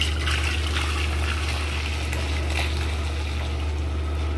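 Water tipped out of a pressure cooker after eggs were boiled in it gives a steady, faint, continuous pouring rush under a low hum, with no voices.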